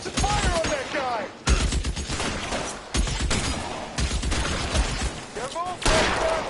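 Bursts of gunfire ring out during a shootout in the LA Noire video game, several sharp volleys in quick succession, loud and close, with shouting voices mixed among the shots.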